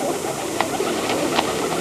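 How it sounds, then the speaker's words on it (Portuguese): A flock of pigeons coos around people feeding them by hand, soft low cooing beneath a dense, steady outdoor background wash, with a few faint short calls standing out. "Nossa, quanto pombo, gente do céu."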